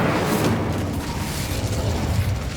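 A Hogwarts Legacy Incendio fire spell bursts out as a loud, rushing whoosh of flame with a low booming roar, held steady for a couple of seconds.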